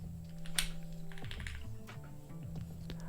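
Keys clacking on a mechanical keyboard fitted with JWK linear switches, a quick run of soft, close taps with a few sharper strikes, heard alone and fairly quiet.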